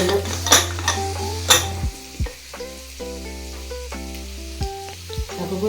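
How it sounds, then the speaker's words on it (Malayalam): Cooked jackfruit seeds are sautéed in a pan with a continuous sizzle, intermittent scraping of a spoon against the metal and a few clinks. Up close and fairly loud, with no talking. "നമുക്ക് ഇതൊന്ന് വഴറ്റിയിട്ട് ചുവപ്പ് വരുവാകാം."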